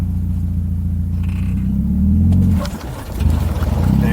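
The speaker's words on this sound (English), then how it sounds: "Ease off the clutch and give it gas." A Mazda Miata prerunner's engine drones at a low idle, then swells and dips as the clutch is eased out and gas is given, with a brief lull before the revs pick up again.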